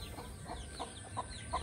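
Chickens cluck faintly at a rural resort farm with livestock sheds and hills behind, giving four short evenly spaced clucks over a quiet outdoor background.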